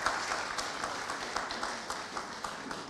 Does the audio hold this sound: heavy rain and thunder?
no